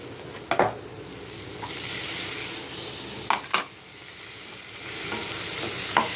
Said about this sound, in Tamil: கேப்சிகம் போடணும்.